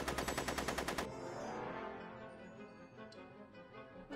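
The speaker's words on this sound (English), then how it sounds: "I'm finding it difficult to concentrate with all the bullets flying around my head" A short, rapid burst of machine-gun fire comes from Back to the Future: The Game, Get Tannen episode on Xbox One. About a second of evenly spaced shots is followed by a fading tail and faint clicks.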